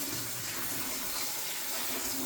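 Cooked orange chicken is rinsed under a running kitchen tap, a loud, steady, close rush of water with no pauses.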